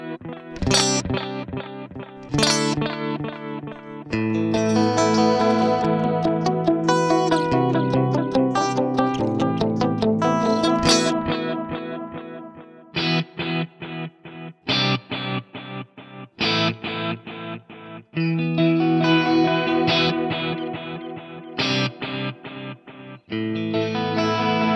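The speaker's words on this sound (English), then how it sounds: "you can turn the stereo tap off and you've got a really lovely sounding kind of lo-fi delay" Guitar played through the Eventide H90's Bouquet Delay set as a lo-fi bucket brigade delay, loud strummed chords and picked phrases with warm, wobbling repeats trailing after each attack, alone without any voice.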